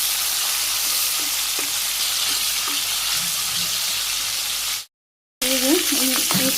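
Chicken pieces fry in a pan with a loud, dense crackling sizzle, broken by a brief dropout, then stirring scrapes and clatter as the frying resumes; no speech.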